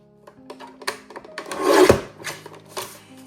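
Paper being trimmed off at one end for a handmade mini album, a short rasping cut that builds to a louder scrape near the middle, with a few light rustles around it.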